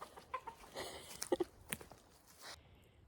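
Backyard garden chickens cluck in a scattered run of short, soft calls at close range, with light scuffling footsteps in between, then quiet.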